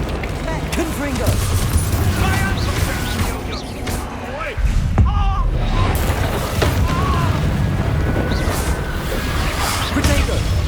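Spell blasts of the Confringo explosive charm burst repeatedly amid a dense, loud game mix of whooshes and booms in Hogwarts Legacy, with voices calling out over the fighting.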